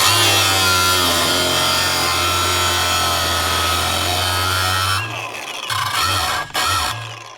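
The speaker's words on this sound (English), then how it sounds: "Cut off wheel on a grinder." Angle grinder with a cut-off wheel cutting through metal plate during a 1996 Ford F-350 2WD to 4x4 conversion, a loud steady whine with harsh broadband grinding that stops near the end, leaving short bursts and pauses.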